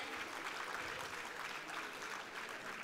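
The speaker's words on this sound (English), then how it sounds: "A huge round of applause for both of them." Steady applause from a conference audience, continuous clapping at moderate distance with no breaks.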